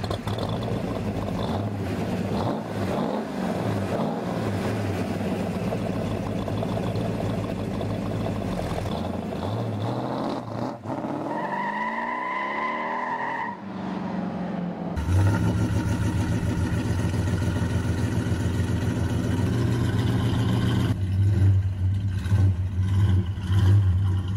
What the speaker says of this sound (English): the roar of this Hemi engine is perfect for any lover of American muscle